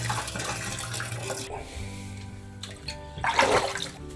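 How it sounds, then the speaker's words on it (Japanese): Hot water runs into a home bathtub as it fills, a steady close hiss and splash that swells to a louder gush near the end. "お湯を張りたいと思います。"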